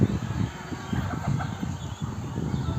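Many chickens cluck and squawk together in a dense, unbroken chorus, close and fairly loud, inside a poultry farm house.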